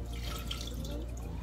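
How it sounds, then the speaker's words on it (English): Limeade is poured into a drink, a short, soft liquid stream with faint splashing in a quiet room. "Pour the rest of the limeade in there."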